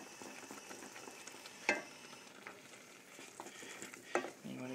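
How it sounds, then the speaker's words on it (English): Choux pastry dough being stirred in a pan over high heat: soft, steady scraping and faint sizzling, with two sharper clacks of the utensil against the pan. "continue to stir it."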